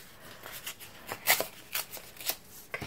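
Pieces of corrugated card are handled in a quiet room, giving a series of soft, brisk papery rustles and flicks in irregular bursts, close and faint.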